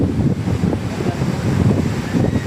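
Strong wind in Samar, Philippines buffets the microphone in a continuous low roar, loud and gusty throughout, with no voices.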